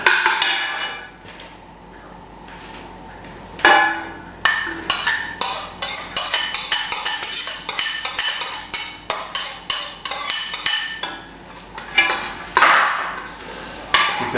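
Onions tipped into a pan of browned mince for a low-calorie shepherd's pie, then stirred with a utensil: repeated close metallic scraping and clinking against the pan, busy and rhythmic, with no talking.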